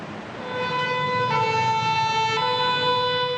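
An emergency siren wails steadily at a distance over faint city rumble in Paris, its pitch shifting partway through.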